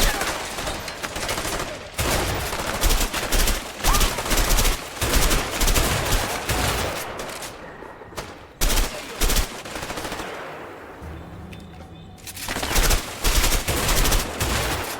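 Rapid bursts of gunfire in the game A Way Out, loud and nearly continuous, with automatic fire rattling in dense volleys and a couple of brief pauses.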